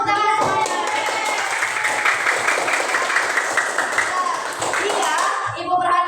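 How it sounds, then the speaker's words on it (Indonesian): Children in a classroom clapping hands together, a dense, lively patter of many small hands mixed with kids' excited voices, fading toward the end. "Tepuk tangan semuanya."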